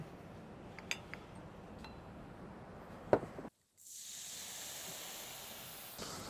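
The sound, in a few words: sugar caramelizing in a hot pan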